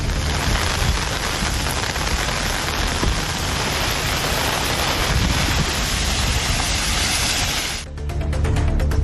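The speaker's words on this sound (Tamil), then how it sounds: "வெளுத்து வாங்கிய மழையால் சாலையில் தாழ்வான இடங்களில் தண்ணீர் தேங்கியது" Heavy rain pours down steadily in Tamil Nadu's Pudukkottai area, where water pools in low spots on the road; a dense, loud, continuous hiss runs throughout, with only a brief dip near the end.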